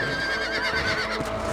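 A stallion neighs in Red Dead Redemption, a loud, close whinny with a wavering pitch running the whole moment, faint hoof clatter and game ambience beneath.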